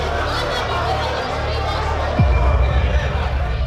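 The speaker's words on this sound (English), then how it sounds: "That noise is their cries for help." Many detained men, women and children cry out for help at once in a dense, chaotic clamor, with a steady low hum and rumble underneath.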